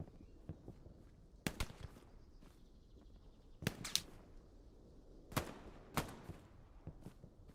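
Sharp gunshots from M1 Garand rifles in a WWII shooter game, a few scattered cracks and short bursts spread out at irregular intervals against a quiet background.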